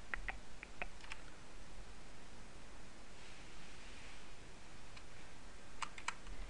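Faint, sparse keystroke clicks from typing on a computer keyboard while entering passwords to crack a ZIP file, heard as a few short clusters near the start and end under steady hiss.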